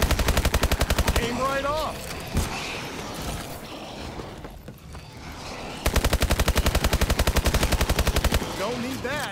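In the Advanced Warfare Exo-zombies video game, rapid automatic gunfire rattles loudly in two long bursts, at the start and near the end. A quieter stretch with talk sits in between, and a brief remark is spoken over the shooting.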